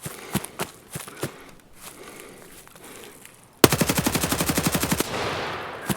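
An RPK-16 machine gun in the shooter game Escape From Tarkov opens up in a loud, rapid sustained burst after scattered thumps and footsteps, then cuts off into a fading echo.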